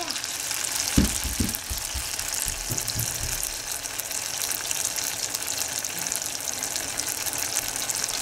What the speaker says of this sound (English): Let it bubble away for 3 minutes.